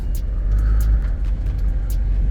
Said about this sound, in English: I know I'm misfiring still because I can hear it pretty good.